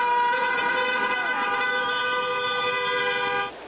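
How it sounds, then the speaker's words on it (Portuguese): Several car horns honk together in a protest buzinaço by drivers passing along Avenida Washington Luiz in Brazil, with sustained overlapping tones blaring steadily for a few seconds before cutting off. "Motoristas que passavam pela Avenida Washington Luiz fizeram um buzinaço."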